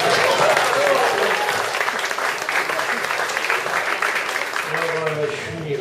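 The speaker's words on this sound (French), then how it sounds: "Allez, on applaudit la mariée." Wedding guests applaud the bride at a July 2014 wedding reception, a dense, steady roomful of clapping that holds throughout, with voices talking and calling out beneath it near the end.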